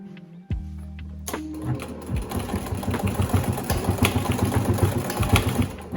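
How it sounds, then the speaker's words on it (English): A sewing machine hums and clatters continuously at close range while it stitches a piperoll, the motor steady and rhythmic after a brief start-up. "So I'm gonna sew that in."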